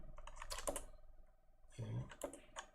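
Quick, light keystrokes on a computer keyboard while coding in Python, a soft irregular patter of clicks heard close and quietly, with a faint steady tone beneath.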